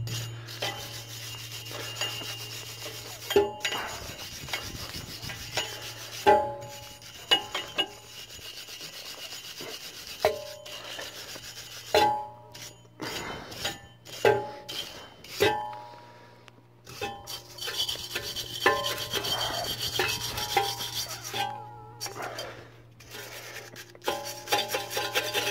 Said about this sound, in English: just give the hub a wee clean, shouldn't need much. With your trusty old wire brush.